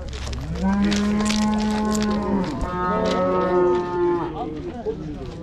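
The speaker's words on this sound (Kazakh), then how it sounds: "Еркек бұзау." A male calf moos twice in a row, two long, loud, drawn-out calls close by.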